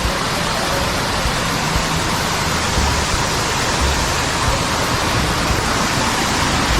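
A dense, unbroken roar of falling water from Lubong-Nangoloan Falls, loud and steady throughout, with no voices or other sounds.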